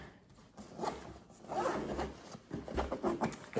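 A backpack zipper is pulled open in several quick rasping strokes, close up and fairly quiet, with no talking.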